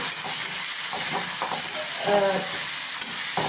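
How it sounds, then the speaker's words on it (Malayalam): Onion, green chili, ginger and garlic fry in a pan, making a constant hissing sizzle with intermittent scraping and clattering as they are stirred. "സവാള, പച്ചമുളക്, ഇഞ്ചി, വെളുത്തുള്ളി ഇതെല്ലാം ചേർത്തിട്ട് ഇളക്കി കൊടുക്കണം. നല്ലപോലെ ഇളക്കി കൊടുക്കണം."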